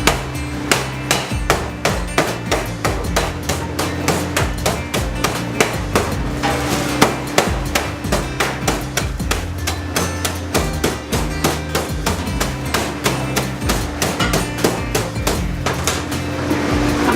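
Ingredients for orange zest ice cream are pounded into fine powder with a hammer-like tool, a long run of loud, steady rhythmic blows close by with no talking.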